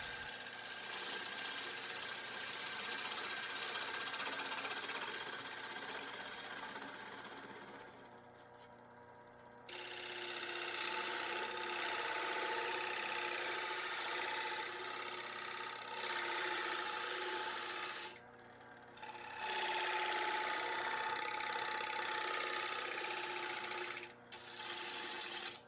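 A wood lathe spins a platter made from pallet wood as a half-inch bowl gouge scoops out its face, giving a steady rasping, scraping cut over the motor's hum, with brief pauses where the tool lifts away.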